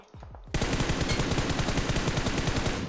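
Sustained automatic gunfire in PUBG Mobile starts after a brief quiet moment and keeps up as a dense, loud, rapid burst of shots.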